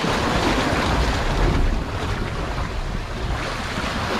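Ocean waves washing over rocks along a shore while lure fishing, a continuous loud rushing surge with wind noise buffeting the microphone, no speech.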